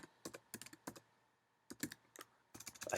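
Typing on a computer keyboard sounds as bursts of quick, crisp key clicks in short clusters separated by brief pauses, close and fairly quiet, with no voices.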